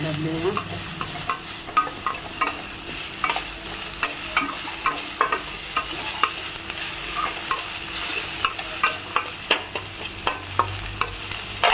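Cumin seeds sizzle in a frying pan for a keerai dish, a soft continuous frying hiss broken by frequent sharp scraping clicks of stirring.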